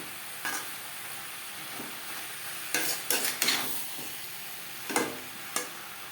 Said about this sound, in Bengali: বেগুন আরও তিন চার মিনিট নাড়াচাড়া করে নেব